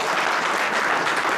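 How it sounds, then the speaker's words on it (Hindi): Dense, loud audience applause at an honouring ceremony for wrestlers in Mewat, Haryana, a continuous burst of many hands clapping together. "जोरदार ताली बजाकर"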